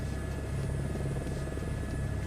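A Chinook tandem-rotor helicopter in Microsoft Flight Simulator 2024 gives a steady low rotor thrum and engine drone, continuous and fairly quiet with no voices.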